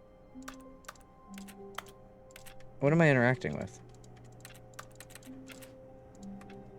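Light, sparse keyboard taps and clicks sound at irregular intervals while playing The Stanley Parable, faint and close, with a brief stretch of a person talking in the middle.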